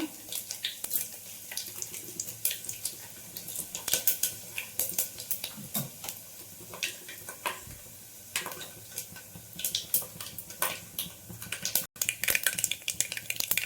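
Mustard seeds, cumin and dried red chillies tempering in hot oil for a raw mango dal, giving a steady crackling sizzle with frequent sharp pops and spatters throughout, moderately loud and close, with no talking.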